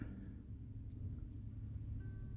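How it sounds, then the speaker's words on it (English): A garbage truck runs outside, its engine giving a steady, low, distant rumble that holds throughout with no voices. "or the trash truck running outside."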